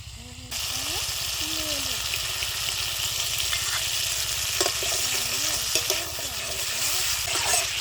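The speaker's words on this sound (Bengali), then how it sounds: "ভালো করে মশলাগুলো কষিয়ে নিয়েছি, টক দইটা দিয়ে দেব" Spice masala frying with sour yogurt in a pan gives a loud, steady sizzle that begins after half a second and continues throughout, with stirring and a voice talking over it.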